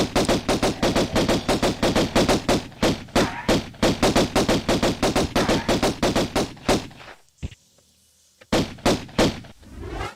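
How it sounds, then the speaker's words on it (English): Rapid bursts of gunfire from the 1996 video game Tomb Raider ring out loud and dense for about seven seconds, stop briefly into near silence, then resume with a few more sharp shots. "It's not even a fun gun battle anymore."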